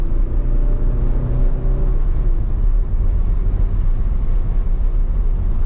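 A car cruises along a road with friends following in a Honda Civic Type R, a BMW and a Mazda 3, giving a steady, broad rumble of engine and tyre noise with no talk.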